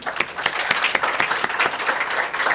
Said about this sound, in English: I think that deserves another applause, don't you?